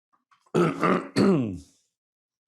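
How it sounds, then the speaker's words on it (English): Two rough, throaty bursts close by, like a man clearing his throat or giving a harsh cough, then quiet. "maybe it's not a good shot, so that's why I'm coughing"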